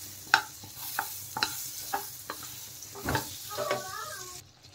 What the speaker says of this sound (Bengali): দিয়ে দিলাম বাটার। বাটারটা মেল্ট হতে থাক।